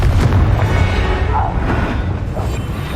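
A Confringo spell blast in Hogwarts Legacy, a loud, deep, rumbling explosion that fills the whole moment with heavy low boom and debris-like noise.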